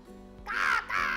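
A person mimics a crow's caw with their voice, two harsh, nasal calls in quick succession, close and fairly loud with no other talk.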